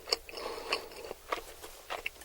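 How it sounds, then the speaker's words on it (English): Chicken nuggets bitten and crunched up close during a mukbang eating session, with a series of crisp crunches and chewing at an uneven rhythm and no talking. "It's just the sound effects of him slurping noodles and eating chicken nuggets."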